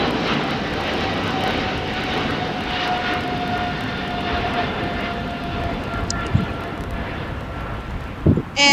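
A KLM airliner in SkyTeam livery at LAX, its jet engines giving a steady roar at moderate distance, with wind buffeting the microphone and a couple of brief knocks near the end.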